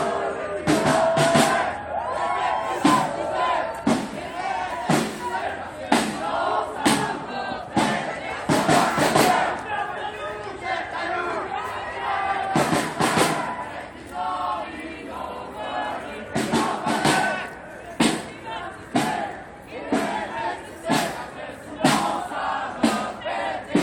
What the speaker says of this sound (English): Screams right now from the crowd saying, "With us in the street," calling for people to join.